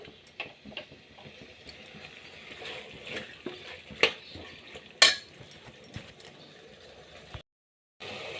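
Tomatoes, spiced masala and vegetables stirred in a pan for a simple pulao, soft sizzling under light scraping and a few sharp clinks of a spoon on the pan, fairly quiet and close, with a brief silent gap near the end.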